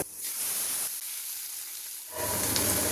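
Nigella seeds drop into hot oil and sizzle loudly in a sharp hissing burst, which eases for a moment and then swells again near the end.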